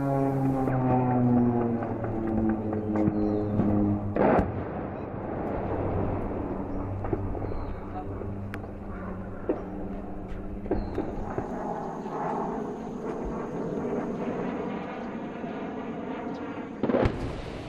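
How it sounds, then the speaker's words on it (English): Heavy airstrike explosions during the Marawi siege boom out at a distance, with two sharp, strong blasts among duller thuds, over a low engine drone that fades after the first seconds. "Over 4 days in Marawi, we watched airstrike after airstrike."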